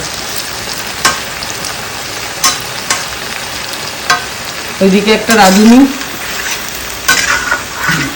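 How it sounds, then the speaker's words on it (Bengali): Potatoes for aloo dum fry in a pan, giving a steady sizzle with a few stirring clinks, while a person speaks briefly partway through. "আর এদিকে আলুর দমের আলুটা ভাজা হচ্ছে।"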